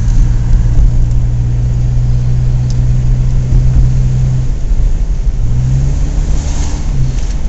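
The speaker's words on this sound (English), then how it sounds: "But doesn't this car sound like a diesel?" A Volvo 740 engine idles and revs steadily with a low, gruff, diesel-like rumble, loud and close, with no voices.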